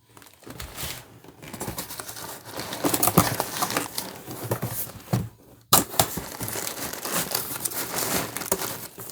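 A plastic bag crinkling and rustling while a Shark Power Pro vacuum is unboxed, close and continuous with irregular crackles and a brief pause midway.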